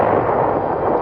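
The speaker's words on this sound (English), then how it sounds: "Germans are blasted by our fire." World War II artillery barrage against German positions at Konzen, a loud continuous rumbling roar of massed guns with no distinct individual shots.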